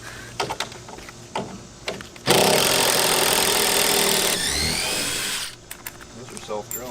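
A power drill backs self-drilling screws out of the underside of a 60W laser cutter, whirring loudly for a few seconds between short bursts, with people talking around it.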